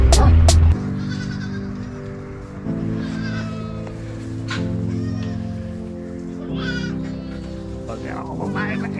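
Baby goats bleat on a farm in several overlapping, wavering cries, loud and near, with a sharp clatter at the start and people talking faintly among the calls.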